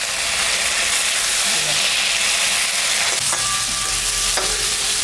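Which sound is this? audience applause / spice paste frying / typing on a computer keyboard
spice paste frying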